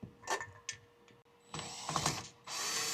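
Screws driven in to fix a ceiling fan mounting plate to a junction box: faint ratcheting clicks and short mechanical bursts, then a steady whirring drive at the end, all quiet and close.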